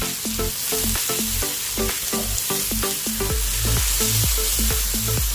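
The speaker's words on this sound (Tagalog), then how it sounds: "lalagyan natin yung ating toge" Bean sprouts (togue) hitting hot oil in a pan for a Filipino stir-fry, loud steady sizzling with rhythmic scraping stir strokes, close and alone without talk.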